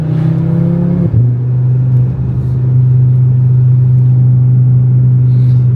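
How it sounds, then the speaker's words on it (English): A Volkswagen car engine hums steadily and loudly at a VW event, its pitch dipping early as it shifts, with a continuous low rumble throughout. "There are some cars out."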